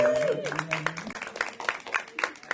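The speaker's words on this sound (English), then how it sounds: "Give a round of applause." A church congregation at a Sunday service claps together in a dense, crackling burst with voices calling out over it, the sound staying busy and uneven from start to finish.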